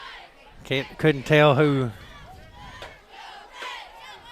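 Spectators at a high school football game between Lincoln County and Perry Central shout and roar together in a loud burst that fades into scattered crowd chatter, with a commentator's voice over the noise.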